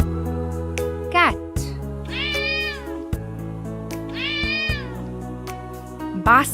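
A cat meows several times, with two long drawn-out meows and shorter calls at the start and end, each clear and close over a steady musical backing.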